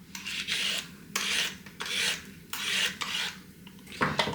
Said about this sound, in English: And then get out your peeler.